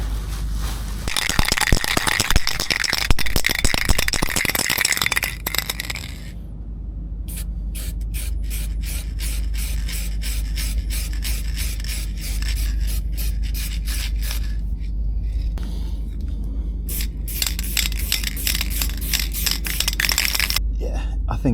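Hand sanding of paint on a boat close by: a steady, harsh rubbing at first, then a long run of quick, rhythmic back-and-forth scrapes with brief pauses.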